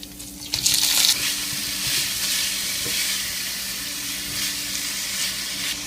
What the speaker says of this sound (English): When you see that this is getting to be pretty sizzly, you can start to cook your tofu in this